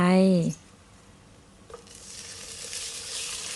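Pieces of catfish drop into a hot frying pan and set off a bright, steady sizzle that builds and holds, following a brief loud tonal sound at the very start.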